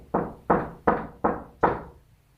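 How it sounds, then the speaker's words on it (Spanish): Five soft, evenly spaced knocks on a wooden door, each a dull thud with a short decay, close and alone. "Golpeó la puerta suavemente"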